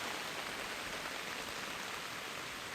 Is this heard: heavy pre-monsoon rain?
yes